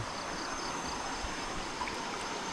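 A river flows steadily at a shallow crossing where prawns are caught, giving a continuous broadband rush of water close by with no voices.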